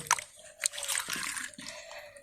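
Pieces of rasavalli yam are rinsed by hand in a bowl of water, giving short sloshes, drips and splashes that come in a few separate bursts, close and fairly quiet.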